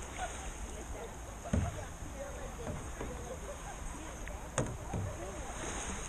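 Canoe paddling on Flathead Lake, with soft paddle strokes and water splashes over steady wind and lapping water, punctuated by a couple of louder knocks; people talk nearby.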